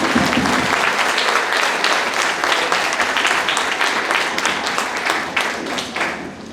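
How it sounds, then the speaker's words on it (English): Audience applause at a school spring band concert in Durand, steady dense clapping from a crowd that holds for several seconds and tapers slightly at the end. "So I want to give a round of applause one more time for all of our award winners."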